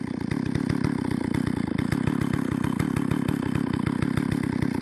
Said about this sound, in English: start the saw and get it running,